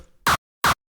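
Two short, dry punchy kick hits from a Serum preset with no reverb, evenly spaced and close, each ending abruptly into silence.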